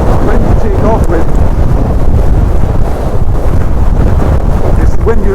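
Constant wind buffets the microphone on a hillside, a loud, close, blustery rumble that never lets up across the clip.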